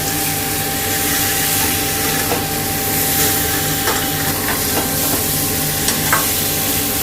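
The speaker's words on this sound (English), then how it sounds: "Mix the boiled potatoes" Boiled potatoes are stirred into masala ingredients in a hot pan for egg curry, a continuous close sizzle under scraping and stirring, with occasional soft clinks and no talking.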